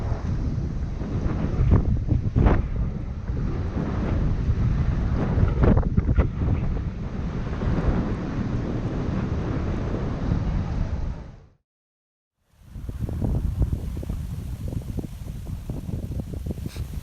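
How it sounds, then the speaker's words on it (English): Strong gusts roar and buffet the microphone continuously, with a brief silent gap before the loud wind rushes back in, at a surf spot in the Philippine Islands. "Crazy winds."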